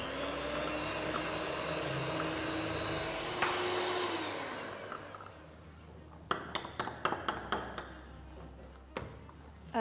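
Chocolate and cocoa butter being mixed, with a loud whirring motor for about four seconds that winds down and stops, followed by a series of quick tapping clicks and knocks.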